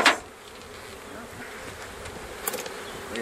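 Honey bees at an open hive hum and buzz steadily in the background, with a sharp knock at the start and a few faint handling clicks.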